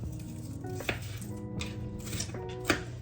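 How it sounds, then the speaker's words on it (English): A knife chopping onions on a board, with a few soft, uneven cuts and light clicks at a slow pace, fairly quiet and close, with no talk. "I cut onions a little slow, not that fast at it, but it works."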